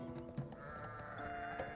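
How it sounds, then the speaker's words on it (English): A sheep in the medieval colony-building video game Going Medieval bleats amid a dense, steady layer of game music and ambience, its wavering cries surfacing briefly within the mix. "Now let's find this sheep. Where is this one sheep?"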